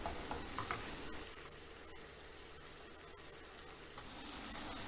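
Spinach gnocchi tossed and stirred in a hot frying pan, giving a continuous soft sizzle with scraping and shuffling movements, steady throughout and with no talking.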